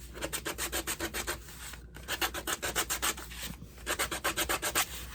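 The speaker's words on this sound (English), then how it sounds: "I'm just going around and distressing them." Black-painted wood pieces are being distressed by hand, with close, rhythmic rubbing strokes in quick bursts of five to eight, separated by brief pauses.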